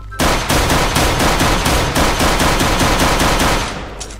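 Rapid automatic gunfire in the Minecraft video game, loud bursts at a steady rhythm of roughly four shots per second, fading at the end.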